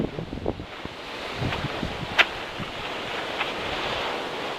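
Water washes against a lake shore at a camping spot while steady wind rumbles across the microphone, a continuous broad rushing noise with a few faint knocks and no talking.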